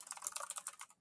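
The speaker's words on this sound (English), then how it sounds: "I was typing in the chat bar." Rapid typing on a computer keyboard, a quick close run of light clicking keystrokes that trails off at the end.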